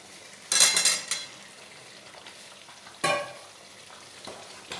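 Pre-fried potatoes go into a pan of spiced duck curry cooking in oil, bringing two loud bursts of sizzling and stirring, each fading into a softer, steady fry.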